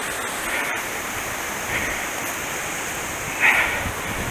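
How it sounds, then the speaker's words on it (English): Tennessee waterfall heard up close as steady, moderately loud broadband rushing water, constant throughout with a brief splashy swell near the end and no voices. "there's a top tier to this waterfall while we're up here"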